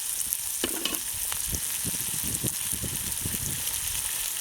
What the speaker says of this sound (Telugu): ఆనియన్స్ ముక్కలు, వేసాము. కొంచెం వేగనిద్దాం.